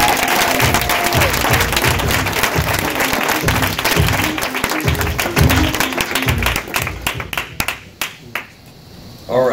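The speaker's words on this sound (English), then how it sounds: "Round of applause." An audience at a Super Saturday business meeting breaks into loud, sustained applause with some cheering, thinning into scattered claps near the end before the noise swells again.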